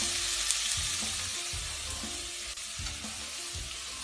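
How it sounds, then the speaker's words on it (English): Corned beef fries in a pan with chopped tomatoes, giving a steady, loud, close sizzle with faint stirring scrapes. No voices can be heard. "As it cooks, the corned beef really melts down"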